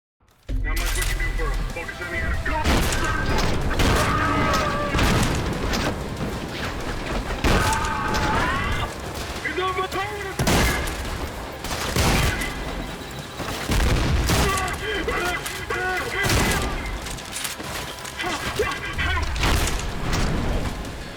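Gunfire and heavy shotgun blasts in the first-person shooter Trepang2, loud repeated bursts and booms layered with game music and effects, continuous dense combat throughout.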